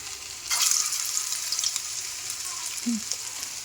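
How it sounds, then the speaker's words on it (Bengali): Cauliflower koftas drop one by one into hot oil on a low flame, a loud bubbling sizzle that swells as they go in and then holds steady and close, with no speech. "এই যে আস্তে আস্তে কোপ্তাগুলোকে ছেড়ে দিচ্ছি"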